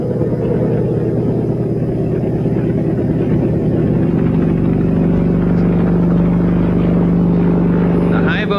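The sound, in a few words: helicopter flying, archive footage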